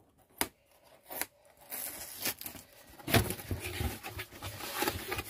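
Sharp snipping and scraping cuts through packing tape on a parcel, several irregular strokes close up, followed by crinkling and tearing of packaging material.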